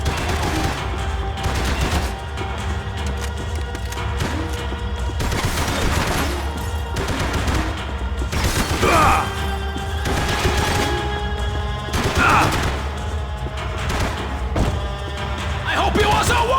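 Continuous heavy gunfire in the action shooter Max Payne 3, loud rapid shots and thuds layered over a droning background, with a voice talking in between.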